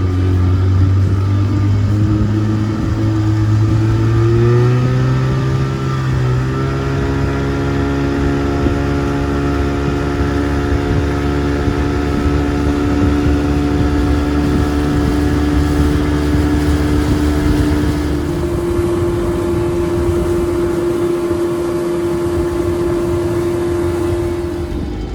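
A 25 horsepower outboard motor from 1990 runs on a jon boat, holding a steady loud drone whose pitch climbs, settles, then drops and evens out as the throttle changes.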